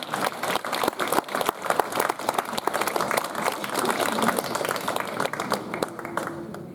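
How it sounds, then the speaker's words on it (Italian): An audience applauding dense, sustained clapping at a poetry event's prize ceremony, loud and continuous for several seconds before beginning to thin out, with voices mixed in beneath. "Un applauso."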